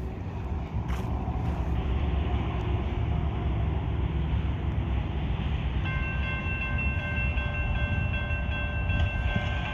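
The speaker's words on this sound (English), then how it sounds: "Got a train coming." Union Pacific 8775 leads a westbound manifest freight train past a road crossing, a loud continuous rumble of rolling cars close by, with crossing bell tones ringing in the latter part.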